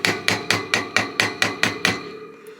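Nine sharp, evenly spaced hammer blows ring out one after another as a metal key blank is pounded flat, each strike loud and close with a short metallic decay.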